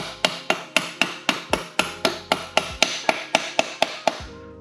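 A mallet taps an Arrow exhaust into place on a Husqvarna 701 motorcycle: about fifteen sharp, evenly spaced metallic knocks, close and loud, with no talking.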